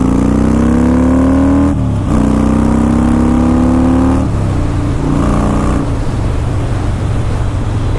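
A Harley-Davidson Dyna Super Glide motorcycle accelerates hard on the road, its loud, close engine note climbing in pitch through the gears, with brief drops at each shift, then settling into a rough cruising rumble.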